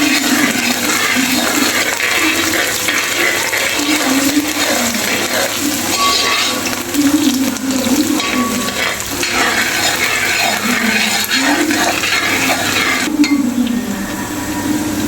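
Ginger and garlic fry in hot oil in a pan with a loud, continuous sizzle. Scraping stirring sounds run steadily through it.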